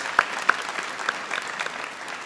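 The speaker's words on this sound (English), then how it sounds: "Let's give them a big round of applause." A light round of applause from a ceremony audience at a medical school white coat event, with a few sharp nearby claps standing out over scattered, thin clapping that stays fairly quiet throughout.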